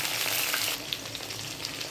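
Pointed gourd pieces fry in oil in a wok, giving a close, steady hiss of sizzling that drops slightly in intensity partway through and stays continuous without talk.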